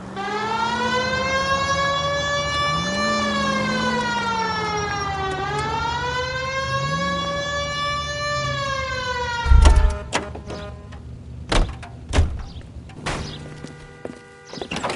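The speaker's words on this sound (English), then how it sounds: "Hit the siren." A police car siren in the video game LA Noire wails loudly in long rising and falling sweeps, then cuts off, followed by scattered clunks and thuds.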